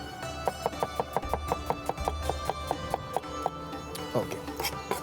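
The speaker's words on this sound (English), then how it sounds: "You need to finely slice the onions" A knife finely slices onions on a board with quick, even taps in a steady rhythm that speeds up toward the end, close and crisp over a faint tonal background.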